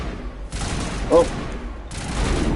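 Bursts of video-game gunfire from Mass Effect Legendary Edition, a dense rattling fusillade that fills most of the stretch, pauses briefly, then resumes, with a short vocal sound mixed in.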